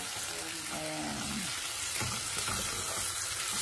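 Onions frying in a pan before ginger is added, a continuous close sizzle with stirring scrapes, and a voice briefly audible near the start.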